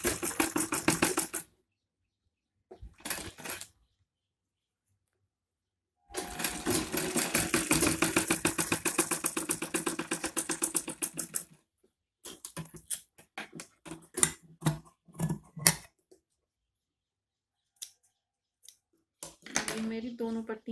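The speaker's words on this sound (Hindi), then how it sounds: "और इसके ऊपर भी हम सिलाई लगा लेंगे।" A sewing machine stitches dress fabric in close, loud rattling bursts, one long run and several shorter ones, separated by brief pauses.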